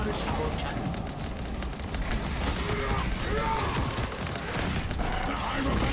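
Heavy cannon fire in a sci-fi combat video game crackles as a dense, continuous barrage under the action, with shouted in-game voice lines throughout.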